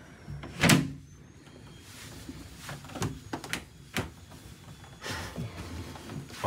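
A door in a house in Mexico being worked open, several knocking thumps and clunks of the handle and latch spread over a few seconds, close and fairly quiet, with no talk.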